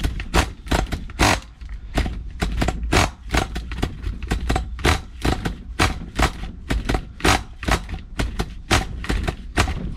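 An old nitro RC car engine being pull-started, a rapid series of loud, sharp ratcheting bursts and pops repeating close by with little pause.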